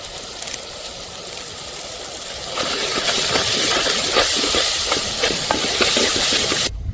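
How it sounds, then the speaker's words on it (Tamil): Curry leaves drop into frying onion and tomato for fish gravy, and a steady hiss swells into a louder, crackling sizzle with sharp pops, close up and continuous, with no talking. "அதனால இப்போ போட்டுக்கலாம் கருவேப்பிலை."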